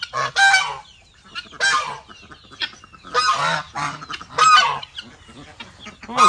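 Backyard chickens let out of their coop: loud, harsh honking squawks and clucks come in repeated bursts, close by, separated by short quiet gaps, with little talk.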